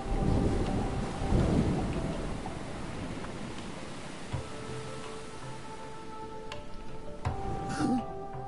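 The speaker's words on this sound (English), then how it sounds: "it looks like it's about to rain" Thunderstorm in the video game Stranded Deep, a deep rolling thunder rumble early on over continuous falling rain, which keeps hissing steadily with a few brief tonal game sounds near the end.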